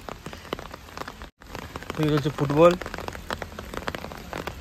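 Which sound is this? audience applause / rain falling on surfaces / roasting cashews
rain falling on surfaces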